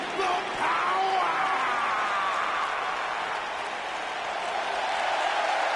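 Crowd applause and cheering from a WWE SmackDown arena crowd in a wrestling video game, a steady broadband roar lasting throughout, loud and sustained, with a voice and faint tonal sounds layered over it.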